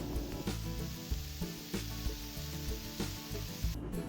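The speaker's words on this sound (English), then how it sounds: "Now we're going to cook these until they are done" Seasoned shrimp sizzle steadily on a Blackstone flat-top griddle, a continuous close hiss punctuated by periodic scraping taps from a spatula roughly every half second, with no voices.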